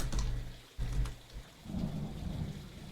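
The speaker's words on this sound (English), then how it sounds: "Please enjoy the rain noises while I" Steady rain falling outdoors with rumbling thunder, a continuous loud wash of rainfall with deep low rolls swelling and briefly dropping out before resuming, no voices.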